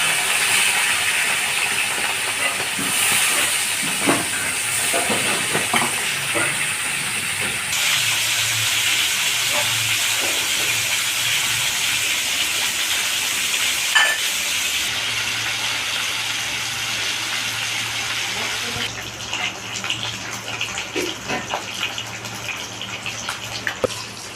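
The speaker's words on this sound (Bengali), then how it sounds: "এবার আমি মাছটা একটা একটা করে ছেড়ে দিই" Steady loud sizzling and hissing of fish frying in hot oil, continuous throughout, with occasional small pops and clinks of a utensil nearby.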